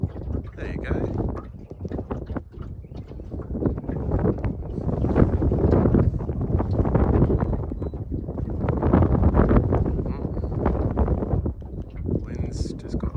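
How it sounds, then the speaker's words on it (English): Steady, strong wind buffets the microphone on a small boat electric trolling for whiting, a continuous low rumbling roar that swells and eases across the whole stretch. "Wind's just got stronger."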